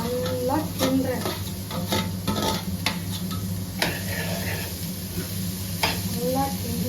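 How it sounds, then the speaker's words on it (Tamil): Carrot and beans are stirred with sautéed onions in a frying pan: a soft, continuous sizzle under frequent rhythmic spatula scrapes and taps against the pan, heard up close. "நல்லா கிண்டுறேன்."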